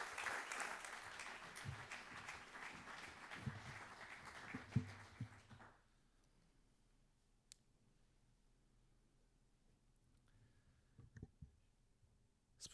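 Audience applause at a university 30th anniversary ceremony fills the first half, broad and sustained as the rector takes the stage, then cuts off abruptly into near silence with a few faint clicks and knocks.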